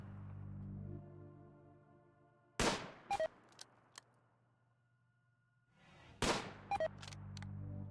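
Two bursts of gunfire from the RimWorld colony-management game, each a sharp crack followed by quick clicks, separated by a low droning hum and a stretch of near silence.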